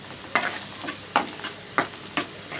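Ginger paste with salt and turmeric fries in a pan, a soft steady sizzle broken by four sharp scraping spoon strokes at regular intervals, close and with no voices.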